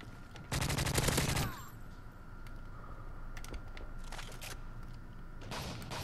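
Bursts of rapid automatic gunfire from an online Modern Warfare 3 match, with one dense burst near the start followed by scattered shorter volleys and clicks, quieter further in, over a low background.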